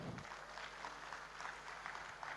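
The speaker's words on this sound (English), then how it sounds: "Ladies and gentlemen, round of applause for Ziva." Audience applause at a tech fair event, a steady, dense clapping from a crowd that holds at an even level for the whole stretch.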